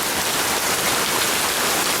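Rain pours steadily during a Texas storm, a dense broadband hiss of drops on surfaces, close and continuous with no voices.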